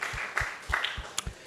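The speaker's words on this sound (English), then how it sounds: "So let's give him a big round of applause as well." An audience at a devotional talk gives a round of applause, a brief steady patter of many hands clapping with a few louder individual claps rising out of it.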